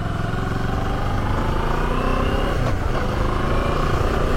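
Moto Morini X-Cape 650 motorcycle ridden off-road, its engine droning loud and steady throughout, with a brief swell of revving partway through and no voices.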